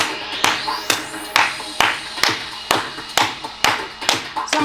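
Fitness class participants at a festive dance session clap in a steady, evenly spaced rhythm, about two claps per second, crisp and fairly close.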